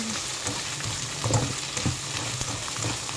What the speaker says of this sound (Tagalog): Fry ko muna ang fish cake.